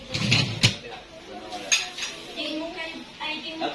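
Children wash dishes, with pots, pans and cutlery clinking and clattering close by in short irregular bursts, including one sharp clash, while voices talk over the work.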